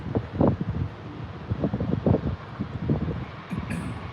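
Wind buffets a microphone outdoors in irregular low rumbling gusts, loud and close, with no talking.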